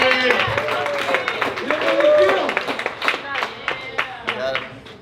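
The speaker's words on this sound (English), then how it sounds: "Big round of applause for James" Wedding reception guests clap for the best man at a lakeside venue, a moderate burst of hand claps mixed with cheering voices and chatter.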